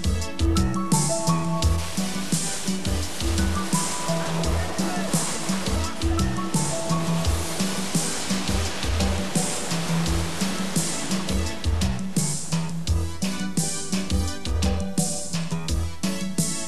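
Loud, constant rush of the flowing Bazin River in northern Quebec, dense and turbulent, with voices faintly mixed into the roar.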